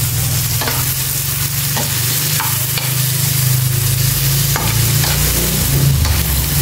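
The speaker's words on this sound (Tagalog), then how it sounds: "Inigisa natin yung mga sibuyas." Onions sauté in hot oil in a pan for a tilapia dish, with a loud, steady sizzle and repeated scraping strokes of a spatula stirring throughout.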